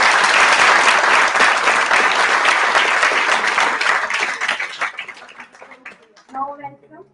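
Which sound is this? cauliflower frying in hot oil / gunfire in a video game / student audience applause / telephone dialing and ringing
student audience applause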